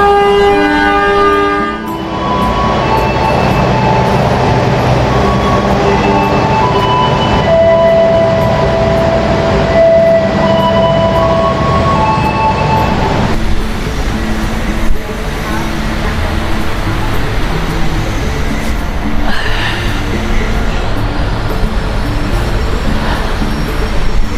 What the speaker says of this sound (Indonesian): Dan Argo Dwi Pangga nanti masuk jalur 5.